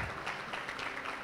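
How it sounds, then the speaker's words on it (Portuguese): Church congregation applauding during an evangelical service, a short burst of steady, dense clapping that fills the space without pause. "você pode aplaudir o Senhor, meu irmão"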